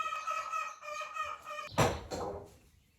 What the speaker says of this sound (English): let me go deal with this chicken.